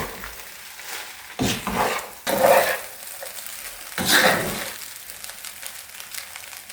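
Fried rice with spring onion greens being tossed and stirred in a pan, heard as a few rough scraping sweeps with a steady sizzle underneath, close and fairly loud, no voices.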